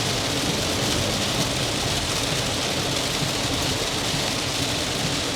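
Heavy rain pounds steadily on a JAECOO 5 EV electric car while driving, a dense continuous hiss loud and unbroken throughout.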